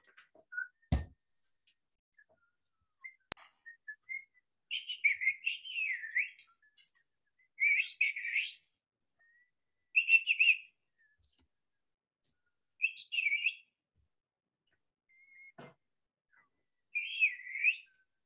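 Children in a music class whistle and trill in imitation of birdsong, making short warbling bursts separated by pauses, with a few sharp knocks and soft rustles between them.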